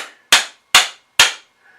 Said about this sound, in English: I had to pound on it quite a bit, so much so that the wedge started to come out of my hammer.